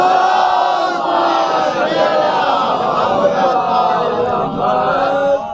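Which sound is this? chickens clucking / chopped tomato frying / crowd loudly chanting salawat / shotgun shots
crowd loudly chanting salawat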